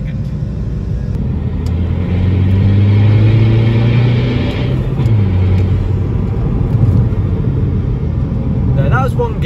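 A Seat Leon FR diesel hatchback pulls away from traffic and accelerates through its gears, the engine's loud, close drone climbing in pitch, dipping briefly at a shift, then rising again over steady road rumble.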